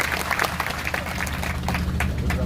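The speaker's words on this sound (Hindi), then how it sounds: "जोरदार स्वागत योग्य तालियां बजाई जाए।" Applause from an audience at a community meeting in Ahmedabad welcoming an MLA: individual claps stand out sharply within a fuller crowd clap, over a low steady hum from the hall's sound system.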